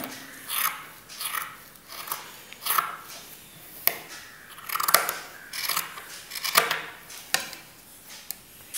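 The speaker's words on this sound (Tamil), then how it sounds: "எக்ஸ்ட்ரா துணியை கட் பண்ணிடணும்." Scissors cut off extra cloth while a skirt-and-blouse frock is sewn, making repeated close, crisp snipping crunches in a slow, uneven rhythm about once a second, with no talking.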